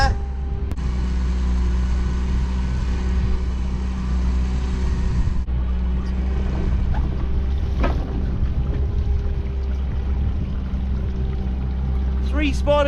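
A fishing boat engine drones steadily throughout, low and constant, with wind and water noise around it and a brief voice near the end.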